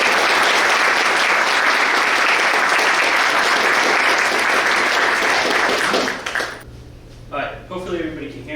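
A lecture audience claps loudly to welcome a physicist on the Canadian Association of Physicists lecture tour at Western University; the applause stays thick for about six seconds, then thins out as a voice begins speaking.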